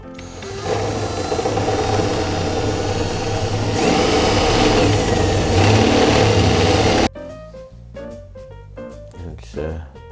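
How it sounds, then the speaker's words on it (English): A power drill runs loud and steady for several seconds, whining as it bores a hole through a train table, then cuts off abruptly, leaving light clatter and handling. "And we drill a hole."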